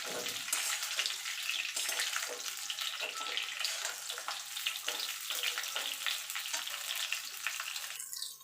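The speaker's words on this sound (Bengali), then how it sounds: "আমটা প্রায় ভাজা ভাজা হয়ে গেছে" Pieces of mango for pickle fry in hot oil with a steady, dense crackling sizzle that holds at an even level throughout.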